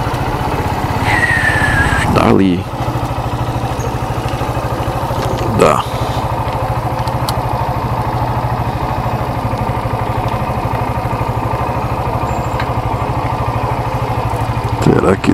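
A motorcycle engine idles with a steady low putter throughout, while a person speaks briefly nearby over the running motor.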